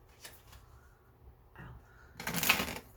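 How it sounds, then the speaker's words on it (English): A deck of tarot cards being shuffled, giving a brief riffle near the start, a short rustle midway and a louder burst of card flutter toward the end, close and with no talk over it. "One more shuffle."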